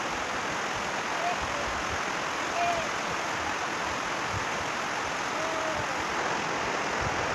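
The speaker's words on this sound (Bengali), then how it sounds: "আজকে সকাল থেকে প্রচুর বৃষ্টি পড়ছে আমাদের এদিকে" Heavy morning rain pouring down outdoors, a dense continuous hiss of falling water, steady and loud with no breaks, a few faint distant tones faintly under it.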